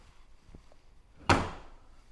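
A kitchen island drawer in a mobile home opens with a single sharp thud and rattle that rings out briefly, after a couple of faint soft knocks in a quiet room.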